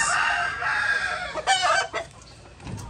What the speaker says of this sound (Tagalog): So yan yung rooster mga ka-farmers